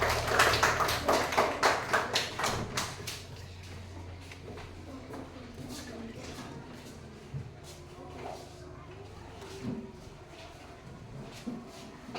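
Students in a primary school classroom clap rhythmically and loudly for a group for about three seconds, then the room falls into quiet shuffling and faint movement.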